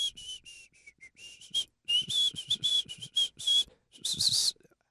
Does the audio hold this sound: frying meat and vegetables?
no